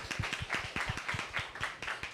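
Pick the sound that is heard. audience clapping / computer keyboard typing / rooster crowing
audience clapping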